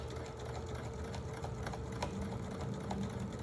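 Sewing machine back stitching over a bulky seam on a bandana bag, a close, steady rapid needle chatter with a few louder clunks as it works through thick layers.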